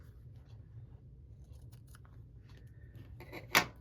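Scissors trimming the fabric points off a bag side panel, a quiet rustle of handling followed by one sharp, close snip near the end.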